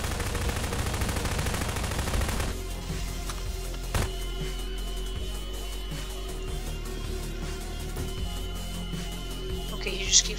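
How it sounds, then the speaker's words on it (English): Gunfire in Garry's Mod, a dense rapid rattle of machine-gun style shots running steadily through the whole stretch, with a sharper burst near the end and players talking over it. "Shoot that thing, bruh."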